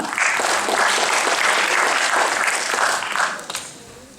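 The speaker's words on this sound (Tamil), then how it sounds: "மீண்டும் ஒரு கைத்தட்டுவோம்" A school event audience applauds after a dance performance, dense sustained clapping from a crowd that tapers off near the end.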